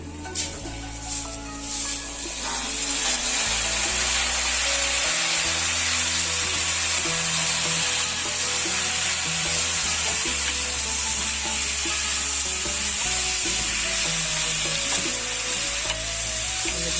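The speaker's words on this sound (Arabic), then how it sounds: "كده الشعرية احمرت. هننزل بالرز بسم الله." Vermicelli and rice fry in hot oil in a pan and are stirred with a steady, loud sizzle. Scraping strokes of the spoon recur throughout, and no voice is heard.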